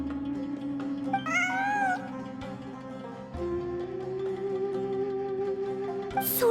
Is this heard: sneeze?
no